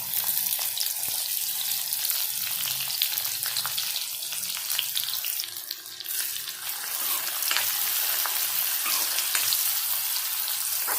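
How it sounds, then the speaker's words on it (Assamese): Onions frying in hot oil in a pan as part of a garlic okra dish, a dense, steady, fairly loud sizzle lasting throughout with faint stirring and spattering, no one speaking. "পিঁয়াজখিনিও আমি অলপ সময় ভাজি ল'ম"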